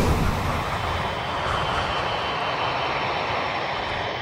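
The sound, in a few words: damaged Boeing 747 jet engines on final approach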